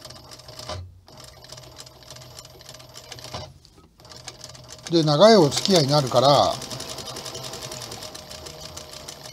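A TK341 sewing machine runs in short bursts of rapid mechanical stitching, stopping and restarting, with a louder, busier stretch midway, while someone talks over it in Japanese.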